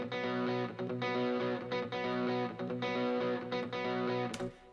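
Gibson SG electric guitar plays the rapid repeating rhythm intro, bright distorted notes cycling steadily and alone, with short pauses between phrases.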